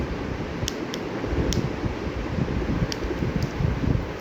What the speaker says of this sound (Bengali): তো এই যে আমার টার্বো ফ্যানটা, এটা অনেক সুন্দর। এটা মানে খুব হাই স্পিডি বাতাসটা হয়।